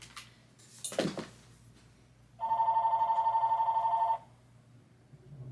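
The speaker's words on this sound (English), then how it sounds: "What is my landline ringing for?" A landline telephone bell rings indoors in one steady burst of about two seconds, loud and clear, after a brief rustle and thump; no one speaks.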